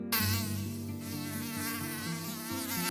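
Anopheles mosquitoes buzzing steadily and up close, a dense whining drone with layered wingbeat tones that holds for about three seconds without any voices.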